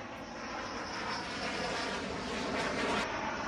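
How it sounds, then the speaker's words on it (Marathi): Rafale fighter jets landing at Ambala air base, a steady broad engine roar that stays loud and even throughout, heard from a distance with no voices. "अंबाला एअरबेसवरती या विमानांचं सुरक्षित असा हा प्रवास पार करून लँडिंग होत आहे"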